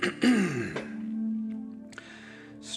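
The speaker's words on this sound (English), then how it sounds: "As you listen, clear your throat" A single rough throat clearing near the start, followed by a soft breathy exhale and a faint tone lingering underneath.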